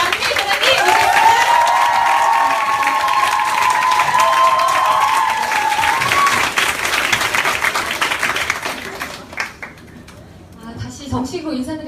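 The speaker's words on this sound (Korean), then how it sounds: "큰 박수로 모시도록 하겠습니다" A large indoor audience applauds loudly and steadily to welcome a speaker to the stage, with cheers and a voice over the clapping, fading out toward the end.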